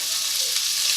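Garlic dropped into onion frying in olive oil, a steady close sizzle filling the short moment with no talk.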